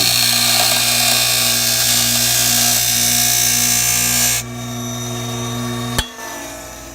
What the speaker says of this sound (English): Turn the grinder on, put the screw inside using those pliers